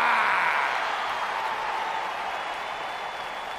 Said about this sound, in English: Clap for your best-of-5 series hosts and feel the power!